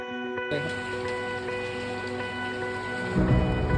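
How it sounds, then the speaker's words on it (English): Heavy monsoon rain pours down at an outdoor dog shelter, a dense continuous hiss that sets in abruptly after a brief quiet start and swells louder toward the end. "Look at that rain."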